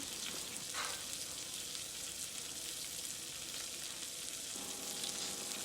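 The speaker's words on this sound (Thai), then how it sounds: "เราผัดพริกกับกระเทียมหอมแล้วก็ใส่หมูชิ้นลงไปค่ะ" Thin pork slices sizzle in a hot pan with chili and garlic for stir-fried basil pork, a loud continuous hiss with faint clinks from stirring.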